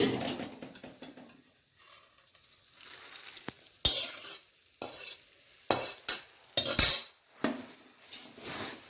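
A spoon stirs a roasted garlic mixture into puffed rice in a metal pan, giving repeated close scraping and clinking strokes with brief pauses between them.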